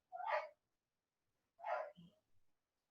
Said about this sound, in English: dog's barking next door